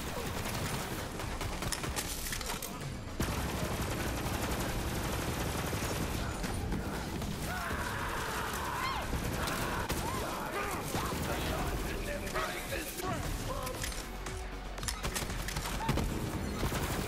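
Rapid, sustained bursts of gunfire from a gun in the video game Borderlands 3, dense and loud throughout with a steady battle din and booms.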